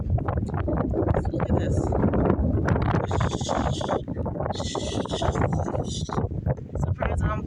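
Strong wind blows steadily outdoors in a garden, buffeting the microphone with a loud, continuous low roar throughout, while a person talks over it.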